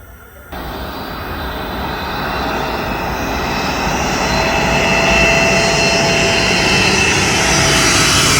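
A loud airplane engine roars steadily overhead, its jet-like rumble building and holding without pause.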